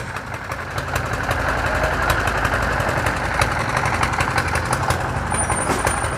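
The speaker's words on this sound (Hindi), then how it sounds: "ये चेक करें ट्रैक्टर पीछे जाता हो जी उस तरफ" Tractor engine running steadily while reversing at a road construction site in a market area, a loud continuous diesel chug with rattling mechanical noise throughout, no talking.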